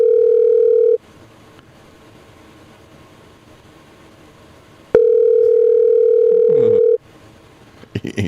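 A telephone ringback tone sounds while calling someone back, a steady loud tone lasting about a second, a pause, then a second longer tone of about two seconds, followed by a faint click and rustle.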